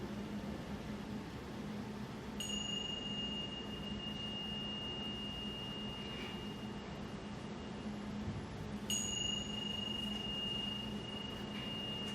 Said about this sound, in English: In a moment, you'll hear a bell to end this breathing space.